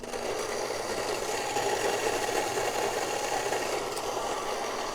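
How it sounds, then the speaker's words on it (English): A coffee grinder grinding beans at a finer setting for pour-over brewing, a steady close whirring drone with a faint rattle that holds at a constant level throughout, with no talking. "So I'm going to go a little finer on this one, and we're going to grind this coffee."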